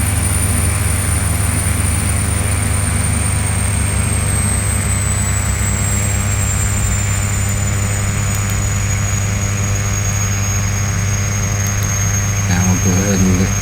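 Piper Malibu PA46T Jetprop turboprop engine in Flight Simulator X, a steady loud drone with a high whine that slowly falls in pitch as the throttle is reduced, with a brief click near the end.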